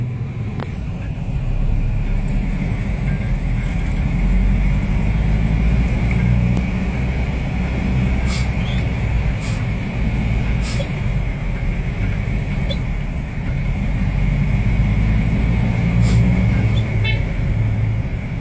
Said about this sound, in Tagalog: medyo traffic pa, no?